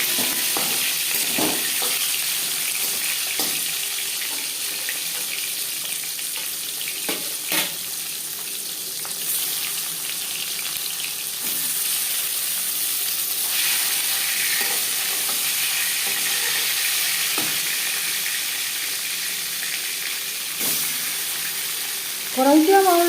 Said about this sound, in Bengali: কড়াইতে আমার জায়গা আছে বলে আমি একবারেই মাছ ভেজে নিচ্ছি।